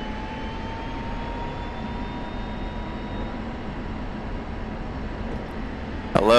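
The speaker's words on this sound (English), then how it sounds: "we're gonna do a high-speed taxi down the runway" A jet aircraft in the DCS flight simulator taxiing at high speed down a runway, a steady broad engine roar with a faint rising whine, constant and close, swelling briefly at the very end.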